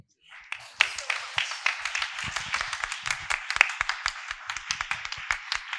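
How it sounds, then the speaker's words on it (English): Audience applause at a school session for parents, a steady patter of many hands clapping that swells in and keeps up with sharp individual claps standing out throughout. "give a huge round of applause to this wonderful event"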